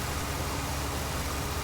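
A Case IH Puma CBX 185 tractor engine in Farming Simulator 19 runs as a steady, loud, low diesel drone, unbroken through the short stretch with no talk.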